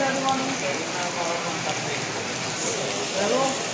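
Steady rain patters continuously on surfaces, a dense hiss filling the background while voices talk faintly underneath.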